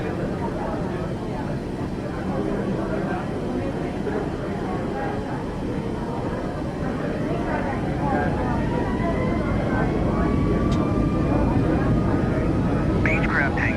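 In Microsoft Flight Simulator 2024, a Boeing 737 MAX jet takes off with a steady, rising engine roar, heard from inside the cockpit; a voice talks throughout.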